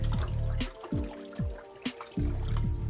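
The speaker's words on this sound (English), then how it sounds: "and then I'm just going to wash the oxtail." Tap water runs and drips into a bowl while oxtail is washed with lime and vinegar for a Jamaican oxtail and beans dish, with uneven trickling, splashing and repeated drips close by, no talking.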